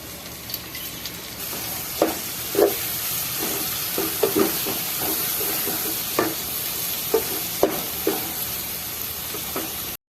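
Green onions are added to frying daal mash, a continuous sizzle with intermittent stirring taps from a spoon against the pot, steady and close, with no voices.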